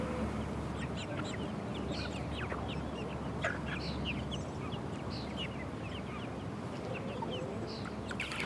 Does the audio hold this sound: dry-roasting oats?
no